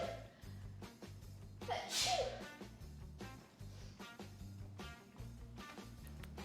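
One abrupt, loud sneeze from a cook with chili pepper up the nose while making a creamy poblano sauce, rising briefly over steady background music.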